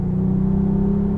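Low, steady engine hum from a 2022 Genesis G80 Sport 3.5 Turbo AWD as it downshifts under light braking, a sustained droning tone that fills the cabin evenly, close and fairly loud, with no voices.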